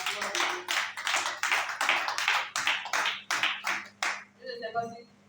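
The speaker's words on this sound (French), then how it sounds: "Je veux qu'on applaudisse très fort pour la gloire de Dieu." Church congregation clapping loudly together in a dense, steady burst of applause for about four seconds, close and enthusiastic, then fading into a brief tail of voices.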